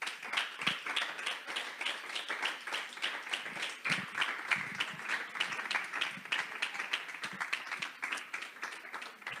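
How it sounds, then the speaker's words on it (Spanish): A church congregation claps together at a Sunday service, a dense, steady patter of many hands at moderate distance that carries on for several seconds. "Denle un aplauso al Señor."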